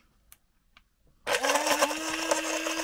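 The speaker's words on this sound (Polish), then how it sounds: "I miksujemy teraz." A camper's blender mixes a milkshake with ice cream and a Kinder Bueno bar: after a few quiet clicks, the motor kicks on sharply into a loud, steady high whine with churning rattles underneath.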